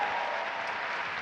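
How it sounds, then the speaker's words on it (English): Steady, dense audience applause fills a hall at an Erasmus+ gathering, a brief uninterrupted burst of many hands clapping. "another round of applause for all of you"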